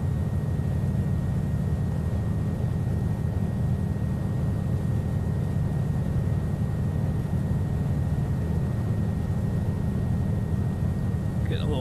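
A Cessna T206H Stationair taxis in Flight Simulator X, its piston engine a steady, loud low drone with a constant hum that holds without a break.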